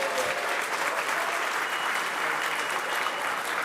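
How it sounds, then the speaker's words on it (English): Steady, dense applause from a large crowd, continuous and even in loudness throughout. "Let's give them a round of applause"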